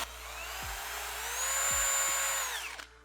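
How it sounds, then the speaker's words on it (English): A power drill fitted with an abrasive pad scrubbing scratches out of metal whines steadily at high speed for about three seconds, its pitch rising slightly before it winds down, close and loud with a gritty scrubbing edge. "So this scratch here is about the deepest that we can smooth out with the drill."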